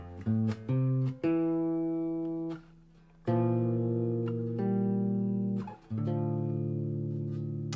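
A sequence of bass guitar notes from a minor 6 diminished scale, plucked one after another with some ringing and sustained, forming a slow descending line played alone.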